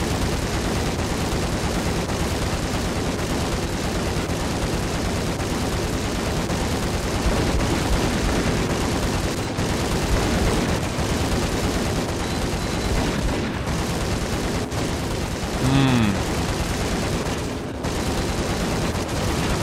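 Gunfire in the Max Payne video game, a dense, continuous barrage of shots and booms running throughout, loud and close, with a brief tonal sweep near the end and no talk.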